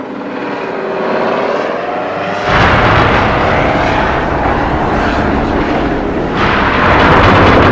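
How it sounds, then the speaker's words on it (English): Osprey hybrid tiltrotor military aircraft flying overhead, a loud continuous engine and rotor roar that thickens abruptly a few seconds in and swells again near the end, with no voices. "The latest threat is this hybrid plane, the Osprey, notorious for its safety issues."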